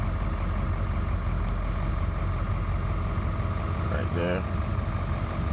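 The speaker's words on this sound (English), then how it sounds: "Idles like a dream." A Ford 7.3L diesel pickup sits at idle with a steady, deep rumble close by, while a person speaks briefly over it near the end.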